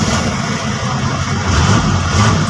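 The engine of a JMC Chinese car with a converted Kia Carnival 110-ampere alternator is started and settles into a loud, steady idle, a close, continuous low rumble with no talking.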